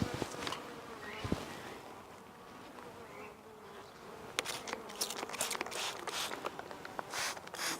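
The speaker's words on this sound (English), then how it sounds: "Beautiful bunch of bees" A large swarm of honeybees hums and buzzes up close while being moved into a hive box, a steady droning cloud with occasional sharper passes and light rustles.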